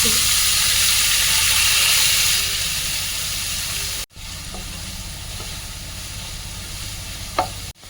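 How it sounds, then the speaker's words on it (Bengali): Grated onion hitting hot oil with cinnamon, cardamom and cloves in a pan for a Bengali shol fish curry, a loud close sizzle that settles after a few seconds, a brief break, then steady frying and one clatter. "এবার আমি দিচ্ছি গ্রেট করা পেঁয়াজ"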